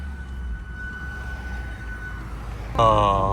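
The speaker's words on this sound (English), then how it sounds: "Are you ready to hear my brakes squeal like Michael Jackson in 2003?" A BMW F10 M5 on a night drive cruises with steady road noise and a thin whine until its ceramic brakes let out a sudden loud, high squeal near the end.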